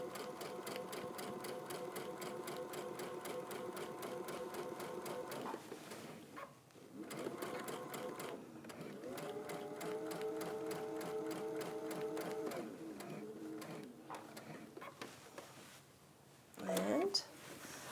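Sewing machine quilting through a layered fabric sandwich, running in long steady bursts of rapid stitching with short pauses between, fairly close; a voice speaks over the machine at times.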